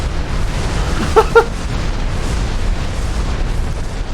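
A castle base is blown up in the Minecraft video game with a loud, deep, rumbling boom that rolls on steadily and is broken by two short, sharp blips near the middle.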